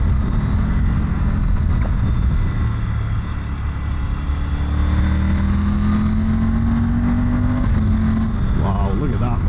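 Motorcycles ride a winding mountain road, the Tail of the Dragon near Fontana Dam in Graham County. A steady, loud engine drone with shifting pitch carries under rushing wind noise the whole time.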